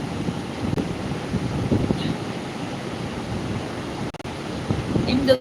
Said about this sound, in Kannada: ಸಂಜೆಯ ಸಮುದ್ರ ತೀರ